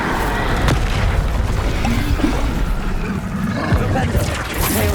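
A fire spell erupts in the game Hogwarts Legacy, heard as a loud, continuous roaring rumble with deep booming bursts throughout, and a voice speaking over it.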